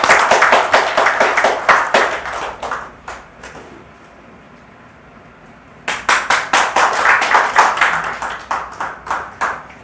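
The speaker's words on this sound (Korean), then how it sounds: "박수로 환영해 주세요." A seminar audience claps to welcome a speaker: loud, close rhythmic clapping from a small group that drops off into near quiet for a few seconds, then resumes strongly and tapers away.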